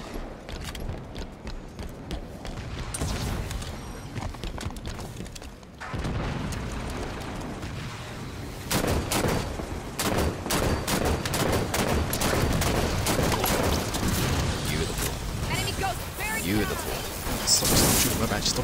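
Rapid gunfire in a video game aimed at a Banshee aircraft, dense bursts of shots and booms running steadily through the stretch, loud over game noise with players talking.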